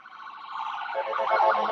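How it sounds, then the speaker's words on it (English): An ambulance siren wails in a brief, rising electronic sweep that grows louder over less than two seconds. "It's a little ambulance."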